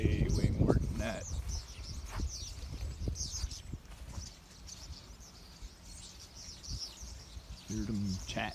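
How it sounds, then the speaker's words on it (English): A large flock of starlings chatter and call continuously at moderate distance outdoors, with crows and a seagull nearby, while a person talks over the birds. "Hear them chatting away with 4 crows and a seagull overhead watching what they're doing"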